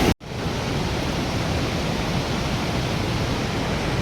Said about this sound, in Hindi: तो पुष्पावती नदी का फ्लो अभी बहुत ही तेज़ है